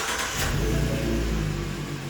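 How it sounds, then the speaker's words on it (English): A 2015 Ford Mustang with a 3.7L V6 engine idles steadily with a low, continuous droning hum, close by and with no voices. "We're just gonna start the car, max on full heat, let it do its thing."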